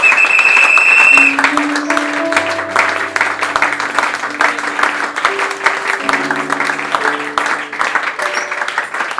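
A church congregation at a seminar applauds in a long, dense burst of clapping that slowly tapers, with sustained keyboard notes and some voices mixed in.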